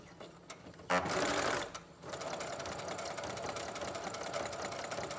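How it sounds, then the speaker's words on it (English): Brother Project Runway Limited Edition sewing machine running a basic straight stitch, a close, steady mechanical whir after a brief louder burst at the start, with no talk. "So the first one, this will just be like a basic stitch."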